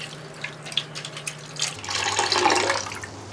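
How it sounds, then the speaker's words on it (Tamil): Tamarind water, with tomato and rice kanji, is poured into a pan of rasam on the stove. A steady splashing stream follows a quieter trickle, with some light clinks. "புளி தண்ணி சேர்த்துக்கலாம்"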